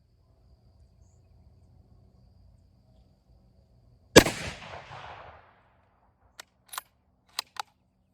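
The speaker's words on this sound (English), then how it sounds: "I wanted to shoot 3 shots, but for some reason the second one didn't feed properly" A single sharp gunshot fired at a target 25 yards away cracks loudly and decays with a short echo, followed by a few quieter metallic clicks and handling taps.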